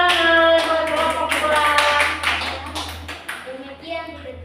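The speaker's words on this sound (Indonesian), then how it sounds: "kita tepuk tangan buat kelompok" Applause for a student discussion group in a Christian religious education class: scattered hand clapping throughout, with children's voices mixed in. It is fairly loud and tapers off toward the end.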